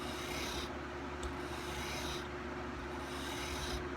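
Chisel bevel being sharpened on a cheap sharpening stone: a quiet, steady rasping scrape in long forward strokes, close up, with brief lighter pauses between passes.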